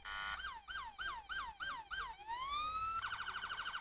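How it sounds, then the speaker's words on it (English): Police car siren in the Emergency Response video game, wailing in a rapid repeating yelp of about six cycles, then a long rising wail into a fast warble, loud and up close. "Turn our siren on."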